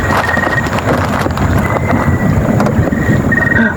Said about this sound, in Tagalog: Malakas talaga hangin, no?